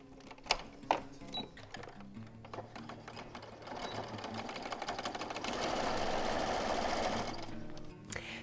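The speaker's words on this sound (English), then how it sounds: "we're just going to sew straight down that one side" A sewing machine stitches babygrow fabric squares together in a steady mechanical whirr that speeds up toward the end, after a few faint clicks and handling noises at the start.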